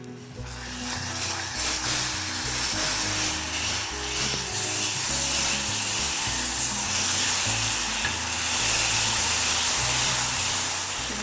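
Sugar sizzles and caramelizes in a pan for a salted chocolate caramel, a close, continuous frying hiss with soft stirring scrapes and no voices.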